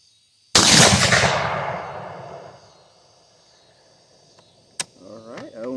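A single loud, close rifle shot from an 8mm Mauser loaded with light cast-bullet rounds cracks sharply and rolls off in a long decaying echo, followed by a small click and brief speech.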